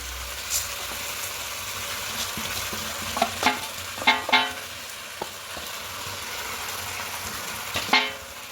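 Drained rice stirred into chicken mince frying in a pan for pulao, a steady sizzle with scraping spoon strokes and clinks against the pot, sharper clatters near the end, no voices.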